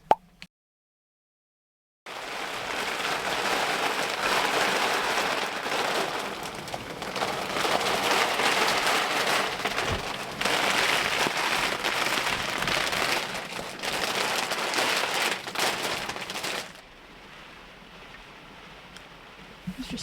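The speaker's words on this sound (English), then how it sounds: "Well, that was a surprise hailstorm." Hailstorm pelting surfaces, a dense steady roar of countless small impacts and patter that starts abruptly after silence, holds loud for about fifteen seconds, then thins to quieter scattered drops.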